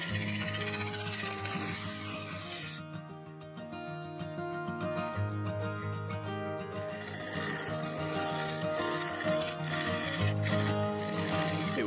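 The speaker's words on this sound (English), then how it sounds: "With this, I began slicing into the resin sidewall, down into the base, to expose the segmented ring and the Sapele core." A carbide cutter scrapes steadily against a spinning resin and Sapele wood vase on a lathe, giving a continuous close rasping hum with a musical backing underneath throughout.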